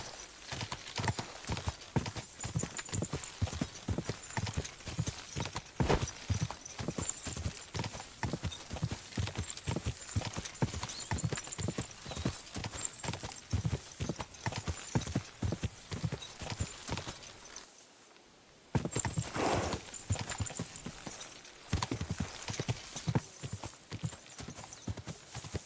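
Horse hooves gallop at a fast, steady clip-clop rhythm during a horse race in the Kingdom Come: Deliverance 2 video game, loud and continuous, with a brief pause near the end before the hoofbeats resume.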